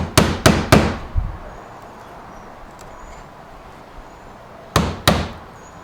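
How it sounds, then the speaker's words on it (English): Sharp rubber mallet blows on a 2011 Audi S5 sunshade, three quick strikes then two more after a pause, loud and close with short ringing decays. "I can hammer with my rubber mallet just to move it just a little bit"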